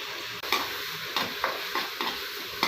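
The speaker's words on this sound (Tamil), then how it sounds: "ஆட் பண்ணி நல்லா கொஞ்சம் வதங்குற வரைக்கும் நல்லா வதக்கி விடுங்க." Crushed shallots and ginger garlic paste sauté in a kadai, with a steady sizzle running throughout and a few short scrapes of stirring at irregular intervals. No one speaks.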